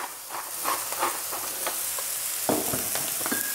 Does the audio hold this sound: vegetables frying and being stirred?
yes